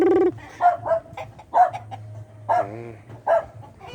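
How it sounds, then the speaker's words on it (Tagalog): Large imported-breed chickens in a farm setting, with several short clucking and crowing calls spaced irregularly over a low rumbling background, fairly close. "ito yung mga manok na kakaibang malalaki"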